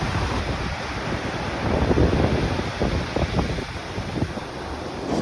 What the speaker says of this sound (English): let's show you what the waves look like.